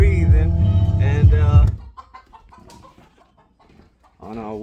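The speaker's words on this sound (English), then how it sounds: "So we're gonna feed the chickens." Farmyard chickens at feeding time: a loud, close burst of fowl calls at the start, then scattered softer clucks and rustling before another call rises at the end.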